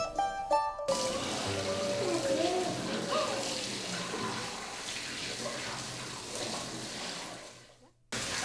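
A tap runs steadily as children wash their hands at a sink, a continuous splashing water flow lasting most of the clip after a brief quiet start, with faint background voices.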